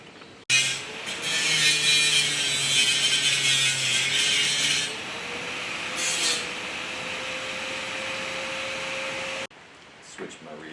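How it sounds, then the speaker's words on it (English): An angle grinder works on a cargo trailer during a Maxx Air roof fan installation, a loud broadband whine running steadily for about nine seconds with a faint shifting tone underneath, then cutting off abruptly. "We'll get the grinder out again"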